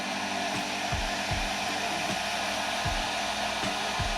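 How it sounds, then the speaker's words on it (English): A hair dryer drying coats of paint on custom fishing lures, a loud steady blowing roar throughout with faint irregular low thumps beneath. "what you're doing is just drying these colors in between coats."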